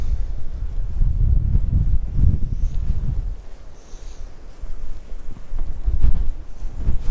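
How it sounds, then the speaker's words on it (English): Gusty wind buffets outdoors at a construction site, blowing in rough low surges that swell, ease off briefly and rise again, with no voices. "oh, wind's picking up"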